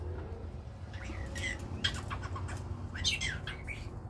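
A black-headed caique parrot chirps and whistles in short bright bursts, close by, with several squawky calls spread across a few seconds over faint background noise.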